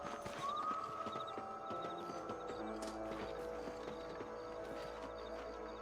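Horse hooves clip-clop at an easy walking pace on a ranch in Red Dead Redemption, quiet, regular steps beneath low ambient game sound and a brief whinny-like tone.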